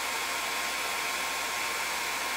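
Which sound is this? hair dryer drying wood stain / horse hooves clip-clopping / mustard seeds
hair dryer drying wood stain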